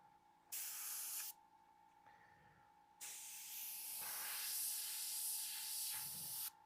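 An airbrush sprays paint through a small stencil, giving close hissing bursts: one short blast, a pause with faint clicks, then a longer sustained spray that cuts off at the end.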